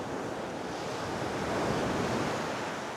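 Sea waves break at a beach during the evening high tide, a continuous loud roar of surf mixed with wind buffeting the microphone, with no voices.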